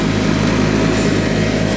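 John Deere 316 lawn tractor engine running while mowing a field, a loud, steady, close-up drone with a constant low rumble and no pauses.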